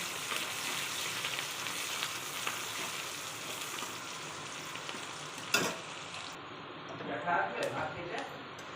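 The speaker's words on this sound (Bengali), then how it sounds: "তেলের ওপর আমি পেঁয়াজ দিয়ে দিয়েছি" Onions sizzle in hot oil for a Bengali rui fish curry with tomatoes and potato stems, a steady broad hiss that runs throughout, with a sharp clatter and some stirring scrapes toward the end.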